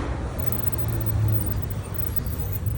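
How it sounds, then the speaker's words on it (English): Steady street traffic fills a quiet central Querétaro street in Mexico, a low continuous rumble of passing cars with no honking, heard at moderate distance. "Even though there's a lot of traffic here, the cars are not noisy."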